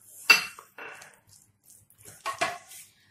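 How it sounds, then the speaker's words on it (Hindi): A spoon works grated cucumber into yogurt in a bowl, giving a few sparse clinks and scrapes against the dish with quiet gaps between them. "हम इसमें डाल देंगे ककुम्बर को और दही के साथ हम अच्छे से मिक्स कर लेंगे"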